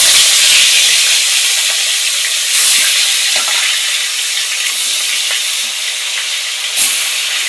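Katla fish belly pieces fry in oil in a wok, a loud, hissing sizzle that stays constant, with brief surges of spitting and crackle now and then.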